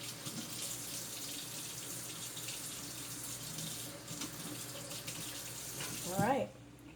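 Brushes are rinsed under a running tap into a sink, producing a steady close water splash throughout, with a brief burst of sloshing near the end.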